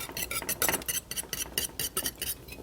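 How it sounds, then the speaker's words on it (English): A whisk beating chocolate pudding in a metal pot, steady quick rhythmic scraping and clinking strokes about five per second, close and fairly quiet with no talking. "I'm whisking with my left hand, so it's hard for me."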